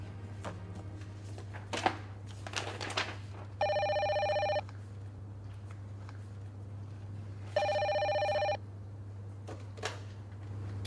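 An office telephone rings twice with long, steady electronic bursts separated by a few seconds of quiet, over a low constant hum and faint rustling.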